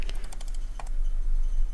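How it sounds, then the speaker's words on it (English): A computer mouse clicked furiously in quick succession, a cluster of sharp, close clicks in the first half second, then a few more before fading into steady low room hum. "I hope you like the sound of a mouse furiously clicking"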